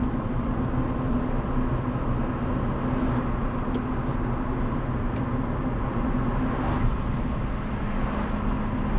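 A car accelerating steadily during a driving lesson with an engine drone, while the driver shifts up into fifth gear; continuous road and engine noise at an even level with no gaps, and no talk.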